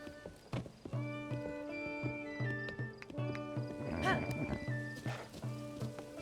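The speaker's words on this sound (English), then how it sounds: "Sell that horse for the glue factory." Horse neighing and hoofbeats in Zelda: Tears of the Kingdom, with a loud whinny in the middle over a rhythmic game music bed and trotting hooves.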